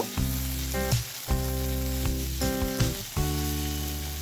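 Ginger garlic paste frying over low heat in a pan for dahi chicken, a close, dense sizzle with tonal hum and several spoon strikes and stirs punctuating it, no voices.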